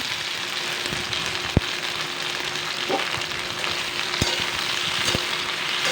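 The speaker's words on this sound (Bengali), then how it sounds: "আমার এখানে একটু একটু করে ফ্রাই হয়ে আসছে" Okra frying in a pan for a Bengali mustard bhindi dish, a constant rain-like sizzle with a few sharp clicks and taps from the pan, close and steady with no speech.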